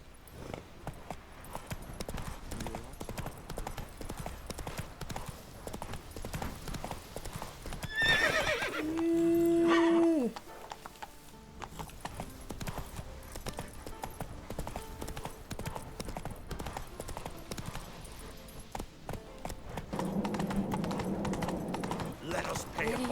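Horse hooves clip-clopping in The Witcher 3: Wild Hunt, a steady galloping patter mixed with game sounds, a loud neigh and whinny midway, and character voices speaking.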